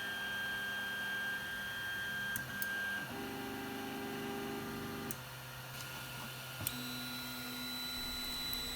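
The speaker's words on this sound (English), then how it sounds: "I calibrated the printer." A 3D printer running its calibration routine, with steady motor tones and hum that shift pitch in stages, plus a few faint ticks, close and moderately quiet with no talking.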